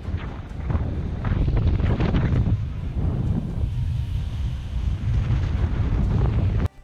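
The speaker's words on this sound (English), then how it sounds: "The wind buffets them mercilessly, threatening to send them plummeting." Strong wind buffeting high-up wind turbine workers, a loud continuous roar of gusts battering the microphone with rumbling surges, steady and unbroken with no talk.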